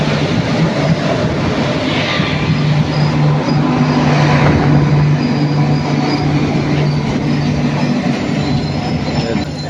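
Passenger train on the Konkan railway in the monsoon, rolling steadily for ten seconds with loud, continuous rumble, wheel noise and a sustained squealing tone, with no talk.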